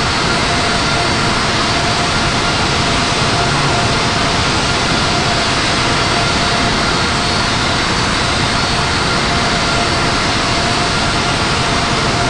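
Airbus A220 jet taxiing in the flight simulator game Infinite Flight, a loud, steady broadband engine roar that holds unchanged throughout with no talk over it.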